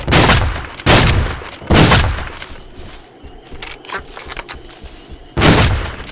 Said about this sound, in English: Oh yeah, I forgot we had a rocket launcher now.